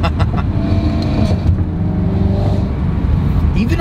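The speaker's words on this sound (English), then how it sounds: "Even on the downshifts, it's like meow, like it doesn't screw around." Supercharged BMW E92 M3 V8 engine downshifting from inside the car, a loud steady drone with blips and rising revs throughout, close and continuous with no talk over it.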